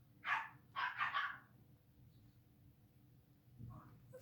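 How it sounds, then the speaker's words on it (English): Dogs barking at a distance, two quick bursts of barks early on followed by quiet, then a faint, short yip near the end. "Bloody dogs."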